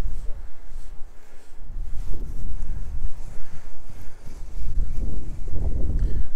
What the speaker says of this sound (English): Jesus Christ, it's windy.